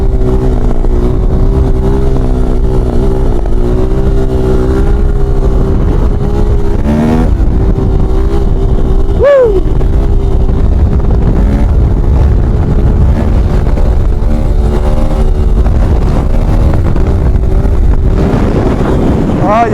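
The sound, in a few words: Yamaha YZF 450 motorcycle engine revving at full throttle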